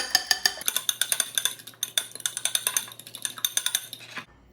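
Two eggs are beaten in a bowl with quick, steady clinking strokes of utensil against bowl, a rapid rhythmic tapping that runs nearly without pause, close and clear.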